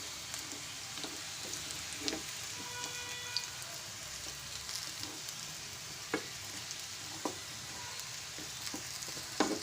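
Raw plantain pieces fry in hot oil in a pan, giving a steady close sizzle and crackle with scattered sharp pops and light scraping now and then.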